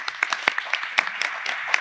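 Audience applause at an accounting and administration conference on the social and solidarity economy, a steady patter of many hands clapping with a few sharper claps standing out, moderate and continuous through the moment.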